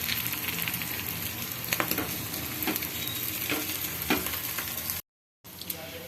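Aloo tikki potato patty frying in ghee or oil in a pan, a steady close sizzle with a few scraping clicks as it is flipped, then a brief gap of silence before the frying resumes.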